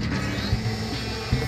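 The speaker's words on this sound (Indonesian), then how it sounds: "Disedot mesin penyedot debu." A vacuum cleaner machine in the Plants vs Zombies 2 video game sucks up zombies with a continuous loud mechanical whirring and grinding, ratchet-like texture, and two brief thumps.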